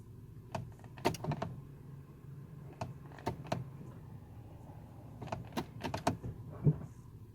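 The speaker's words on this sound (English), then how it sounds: "I'm going to go into reverse and then neutral and then to drive so you can hear the transmission moving" A 2004 Chevy Impala's transmission is shifted into reverse, neutral and then drive, giving scattered faint clicks and clunks of the shifter and gears against a quiet, low idle hum.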